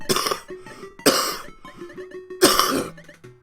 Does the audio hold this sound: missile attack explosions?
no